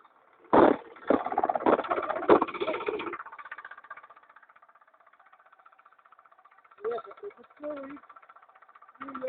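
A walk-behind tractor engine runs steadily while it weeds and hills between potato rows in a weedy field. There are loud bursts of voices and clatter early on, then a quieter, continuous engine drone with more talking near the end.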